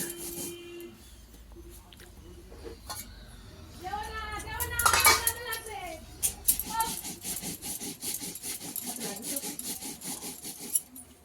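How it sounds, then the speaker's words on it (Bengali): Poppy seeds are ground by hand on a stone grinding slab (shil), giving a rhythmic scraping and rubbing close by, with a brief higher clatter in the middle and talk around it. "এই পোস্ত দিয়েই সজনের ডাঁটা আলু পোস্ত হবে তার জন্যে পোস্ত বাটা হচ্ছে"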